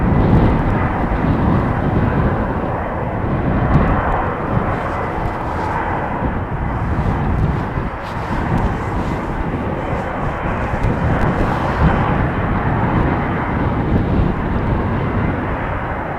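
A Boeing 777 heavy jet departs Schiphol, producing a loud, continuous, broad rumble that stays steady from start to finish with no voices over it.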